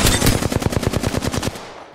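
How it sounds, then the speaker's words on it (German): Rapid automatic gunfire in a shooter video game, a loud, close, evenly spaced burst of roughly a dozen-plus shots that cuts off and fades into a short tail. "Ich stehe unter Beschuss, Freunde."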